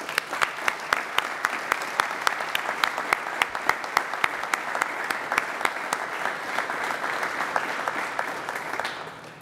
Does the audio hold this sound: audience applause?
yes